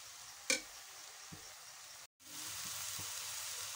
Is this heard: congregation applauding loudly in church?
no